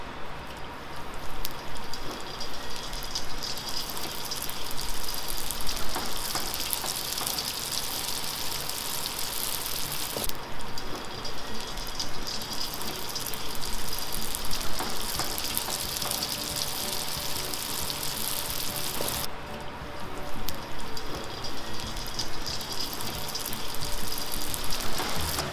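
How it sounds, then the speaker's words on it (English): Peanut turon fries in oil with a dense, continuous sizzle and bubbling crackle, close and steady throughout with slight swells in intensity. "We fry this."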